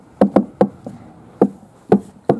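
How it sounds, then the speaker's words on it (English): Drumming knocks on a hard surface: about seven sharp, close raps in an uneven, halting rhythm, fairly loud, with no talking. "Wants to hear my drumming."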